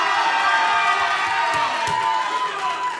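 A crowd cheers and whoops for a fighter at a kumite martial arts event. The loud, steady mass of voices carries a few higher shouts throughout.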